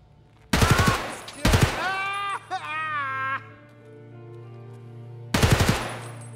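Automatic gunfire in Escape from Tarkov from a weapon with heavy recoil: three loud, sharp bursts of rapid shots separated by pauses, with a tonal whine and rattling between the first two bursts.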